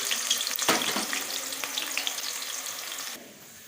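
Onions hit a hot oiled pan for radish kadhi: a bright, crackling sizzle, loud and near at first, easing slightly, then cutting off sharply just before the end, with no speech.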